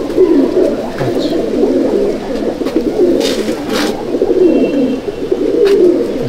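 Kalduma Madrasi pigeons kept by a pigeon fancier in Liluah, Howrah, cooing steadily in low, throaty rolling calls, close and continuous, with occasional faint background clatter.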